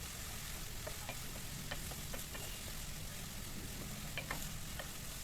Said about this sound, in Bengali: 7-8টি কাঁচামরিচ ফালি করে কেটে দিলাম। দিয়ে এখন একটু নেড়ে চেড়ে ভেজে নেব।